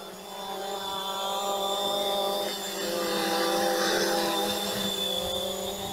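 A Xiaomi Fimi A3 GPS drone hovers and flies outdoors, giving off a steady, fairly soft whine with high tonal harmonics that swell slightly midway, heard alone with no talking.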